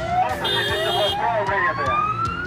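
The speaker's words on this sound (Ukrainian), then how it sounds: "Автоколона вривається із сиренами та проблисковими маячками" Police sirens wail from a motorcade amid traffic noise, a rising siren tone over engine rumble with short horn-like blasts, close and fairly loud.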